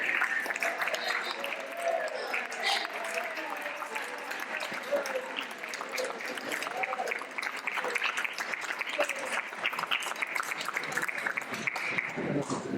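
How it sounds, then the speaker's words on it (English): A meeting audience of Democratic Socialists in New York City applauds and cheers, a dense sustained clatter of clapping with shouts mixed in, steady and loud throughout. "give yourself a round of applause"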